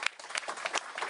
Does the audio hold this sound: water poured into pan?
no